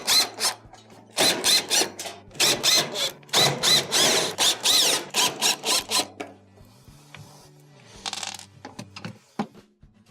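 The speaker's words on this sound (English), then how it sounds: "remove any of the number 2 Phillips screws that are holding it on" A power screwdriver backs number 2 Phillips screws out of the back panel of a Samsung radiant stove, close and loud, in repeated bursts of whirring with short pauses and faint clicks between them.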